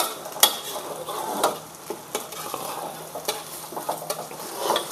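Egg and kway teow being stirred and fried in a wok: a continuous sizzle broken by irregular scraping and clinking strokes of the spatula against the pan, close and moderately loud.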